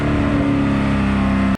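A Ford GT40 engine roaring loud and steady from inside the car while riding, a constant heavy drone with no talking.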